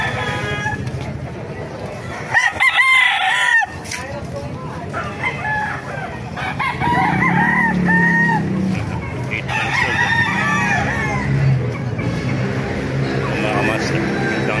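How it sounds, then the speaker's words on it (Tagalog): Several roosters crow repeatedly, overlapping cock-a-doodle-doos near and far, at a chicken market in Baliuag, Bulacan, with someone talking over them and hens clucking in the background. "Papakita ko sa inyo mga manok dito sa Baliwag"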